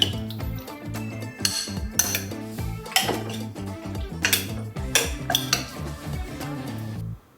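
Marinated chicken wings, seasoned with oyster sauce, pepper and paprika, tossed in a bowl, giving steady clinks and scrapes of a bowl and utensils in an irregular near rhythm with no talk.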